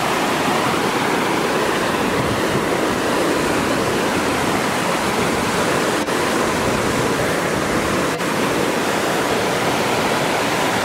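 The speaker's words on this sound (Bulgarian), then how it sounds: "Айде, това беше джакпота с този водопад днеска." Waterfall in Iceland, a loud, steady, unbroken roar of falling water that fills the whole stretch with dense rushing noise.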